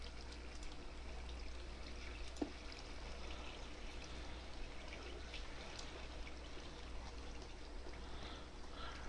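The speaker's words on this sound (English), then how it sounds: "But I cannot open that area right there because water just comes pouring in." Water pours and trickles steadily in a Minecraft cave, a faint continuous rushing flow with one brief click, no voices over it.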